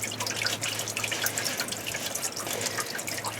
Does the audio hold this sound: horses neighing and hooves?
no